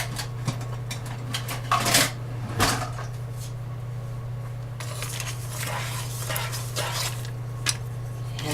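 Stirring vegan toasted almond brittle in a pot, with scattered scraping and clinking of the utensil against the pot over a steady low hum, louder knocks now and then.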